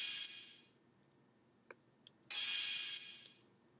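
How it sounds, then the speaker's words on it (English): Crash cymbal sample in a future bass production, two bright washy hits, the first fading out, then scattered faint ticks before a second loud crash that decays over about a second, alone without voices. "The next noise we have here is my crash,"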